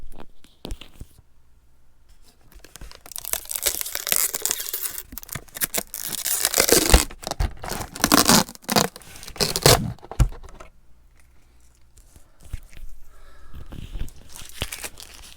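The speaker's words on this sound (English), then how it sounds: "Let's get this plastic off the front here." Plastic wrap crinkles and tears as it is peeled away from the front of a Madame Leota figure, a close, continuous stretch of scraping, crackling and ripping that swells loudest midway and then thins to scattered crinkles.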